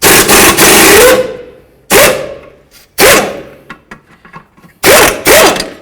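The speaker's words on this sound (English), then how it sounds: "I like to use a 15mm swivel and remove the bolt from the front" A ratchet with a 15mm swivel socket clicks loudly in several rapid bursts, separated by short pauses, as it loosens a rear shock bolt on a 2008–2012 Jeep Liberty. The ratcheting is close and dominant.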